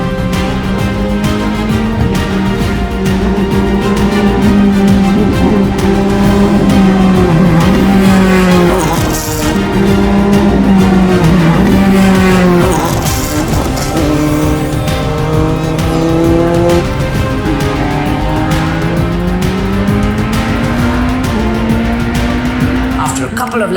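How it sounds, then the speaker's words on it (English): A twin-seater open-wheel racing car built by JM Automotives screams around a race track at race pace, its engine loud and continuous, rising and falling through gear changes with brief tire squeal. "First up with the twin-seater built by JM Automotives and driven by Arjun Narendra."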